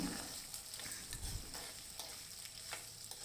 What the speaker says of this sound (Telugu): ఇలా వేసుకున్న తర్వాత బాగా మిక్స్ చేసుకొని మంచిగా ఫ్రై చేసుకోవాలి.